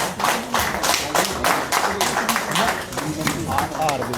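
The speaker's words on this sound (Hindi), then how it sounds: "तालियों से इस्तकबाल किया जाए।" Indoor audience at BJP party headquarters claps to welcome new members; loud, close rhythmic clapping comes in repeated bursts, with voices underneath.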